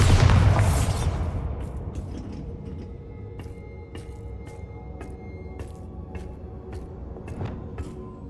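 The Bombarda spell in Hogwarts Legacy bursts with a loud, booming explosion at the start, then fades into a low rumble with scattered crackling debris pops over several seconds.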